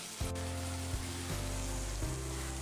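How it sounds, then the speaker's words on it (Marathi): Chopped tomato frying in hot oil, a faint steady sizzle with a few soft stirring knocks in a quiet kitchen. "आता ह्या टोमॅटोला सुद्धा नरम होईपर्यंत आपण तेलात भाजून घेऊया."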